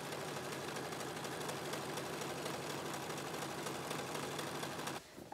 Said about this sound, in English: So I serged just the top here.